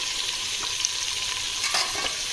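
Mutton fries in a pan for Bakra Eid Afghani mutton, a steady close sizzle with occasional scraping strokes of stirring over it, continuous and fairly loud with no voices.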